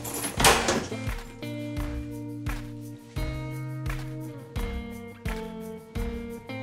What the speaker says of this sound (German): Darfst du deine Tür aufschließen.